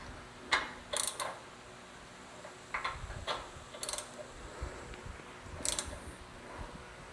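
Shackle bolts are tightened by hand toward torque spec with a ratchet, giving faint, scattered metallic clicks and short ratcheting bursts at irregular intervals against quiet background.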